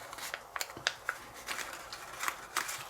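Paper flaps are creased and folded for an origami brick wall tessellation, giving soft close crinkles and a handful of crisp taps and rustles spread across a few seconds.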